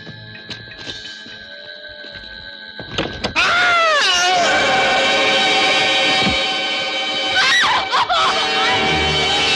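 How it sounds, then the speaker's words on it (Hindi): A scream at night near a graveyard in a Bollywood film scene, a loud, wavering, sustained cry that rises after quieter thumps and a bang, with a brief swell again toward the end. "लेकिन यहां किसी की चीख सुनाई दी थी।"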